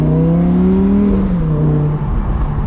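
An Audi R8 convertible accelerates hard, its engine note climbing steadily in pitch for about a second before shifting and continuing to pull, loud and close throughout with no talk over it.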